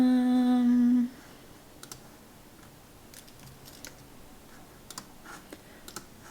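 Computer mouse and keyboard clicks, a handful of faint, sparse taps in a quiet room, following a brief steady tone at the start.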